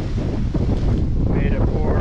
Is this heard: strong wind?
yes